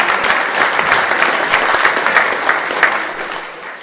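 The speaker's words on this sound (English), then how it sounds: "Let's give them all a good round of applause." Dense applause from a symposium audience on Michigan right-to-work, honoring sponsoring organizations such as a roofing contractors association; steady, full clapping from many hands throughout, tapering slightly at the end.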